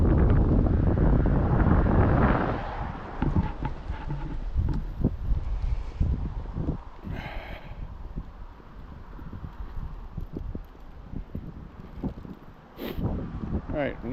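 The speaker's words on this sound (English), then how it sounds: "Hang on, fellas, it's windy." Heavy gusts of wind buffet the microphone outdoors on a walk in Maine, roaring loudly at first and then easing into intermittent rumbling bursts while someone talks throughout.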